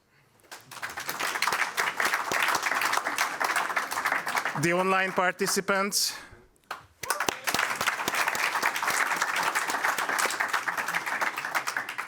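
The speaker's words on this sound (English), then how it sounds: "And a big, big applause for yourselves." Sustained audience applause fills a packed user forum at Danube Ports Days 2023, dense and steady, broken midway by a short spoken announcement over a microphone before the clapping swells again.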